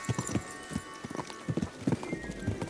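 Horse hooves clip-clop in a quick, uneven trot in the video game Kingdom Come: Deliverance 2, close by, with soft background ambience and a faint whinny-like tone.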